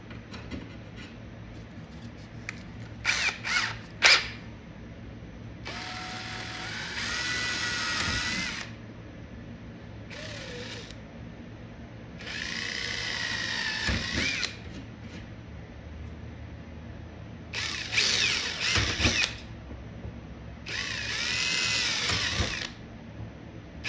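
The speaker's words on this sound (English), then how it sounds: "So I'm just gonna take a drill bit and drill out the resin." A power drill whirs in several bursts of a few seconds each, with high-pitched grinding as the bit drills out fiberglass resin on an arcade cabinet door, separated by quieter pauses and clicks.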